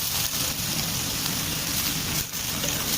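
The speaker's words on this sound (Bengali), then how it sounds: "আমার পেঁয়াজ ভাজা হয়ে গেছে, এখন আমি কইটাগুলো ঢেলে দিব।" Pieces of young kochu (taro) tipped into a hot pan of fried onions set off a loud, steady hiss of frying that runs unbroken, with a brief dip near the end and no talking.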